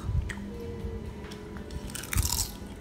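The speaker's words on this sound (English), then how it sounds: "Just the way I like it, nice and crunchy." Crisp crunching bites of homemade baked broccoli chips, a few close, loud crunches with chewing sounds in between and a sharp bite near the end.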